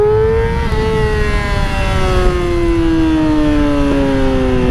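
A Yamaha R6 motorcycle engine holds a steady high rev and then pulls away, its sharp harmonic whine gliding slowly downward under loud, continuous engine noise with no talk.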